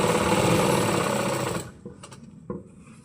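A sewing machine runs a straight stitch along a trouser seam with a fast, loud whirring burst that stops after about a second and a half, followed by a few faint clicks and handling knocks.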